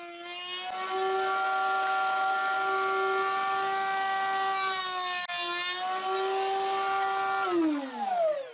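A wood router cuts a dovetail joint in a wooden workpiece with a loud, high motor whine that holds steady for several seconds, dips briefly in pitch, then winds down at the end.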